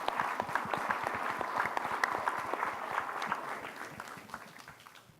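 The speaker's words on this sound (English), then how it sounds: "I thought it'd be nice if we gave him a round of applause." An audience at an evening history talk gives a round of applause for the first gentleman, with many hands clapping close together and the sound fading toward the end.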